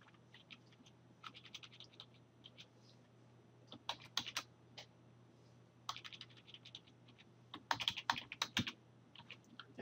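Keys tapped on a computer keyboard to enter a name, quiet bursts of clicks in short uneven runs separated by pauses, close and alone.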